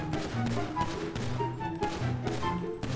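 Gunfire from GTA V roleplay, a run of shots at steady loudness mixed over in-game sound and music, with no clear single reports standing out.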